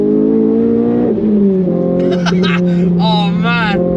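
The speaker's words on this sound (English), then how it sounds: "That Archipov exhaust is ringing in my ears and it sounds beautiful." A modified Renault Clio RS200 engine drones and then revs, its Akrapovic exhaust rising in pitch with rasping tones while someone talks over it.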